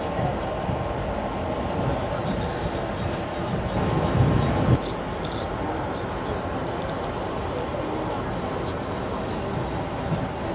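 A Vande Bharat Express train rolls slowly along the track under a speed restriction, a steady loud rumble with faint rattling heard from inside a carriage.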